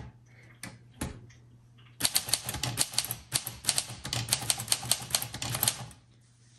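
Rapid typing on a 1934 Corona Sterling Flat Top manual typewriter, a dense burst of crisp key strikes lasting about four seconds after a few isolated clacks, close and loud with no talking.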